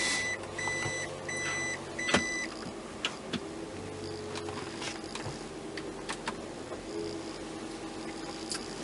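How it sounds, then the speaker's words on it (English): A reverse warning beeper on a second-generation Toyota Prius sounds repeated short, high electronic beeps in a steady rhythm, close and moderately loud over a faint background hum, with a few clicks scattered through. "That reverse beeper is going to drive me insane."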